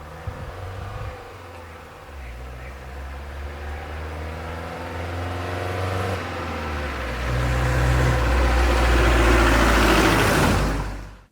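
A classic 1989 Renault Espace engine hums steadily while driving, a low continuous drone that rises and grows louder toward the end as the car speeds up.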